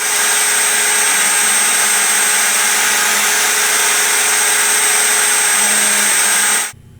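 A CNC machine engraves a brass commemorative plaque with a 1 mm cutter, giving a loud, steady high-pitched whine with a constant motor hum that runs unbroken for several seconds, then stops abruptly near the end.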